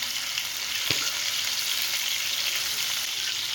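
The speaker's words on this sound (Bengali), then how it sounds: "প্যানের মধ্যে আমি সরষের তেল দিয়ে ফিশগুলি ফ্রাই করব" Ilish fish pieces frying in mustard oil in a pan over low to medium flame, a steady close sizzle throughout with one brief knock partway through.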